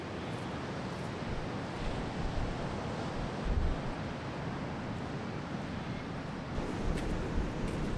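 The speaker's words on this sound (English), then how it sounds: "So it's proper windy and miserable out there today." Steady, heavy winter wind on a Cornwall beach roaring and buffeting the microphone, with a low rushing rumble and occasional stronger gusts, no voices.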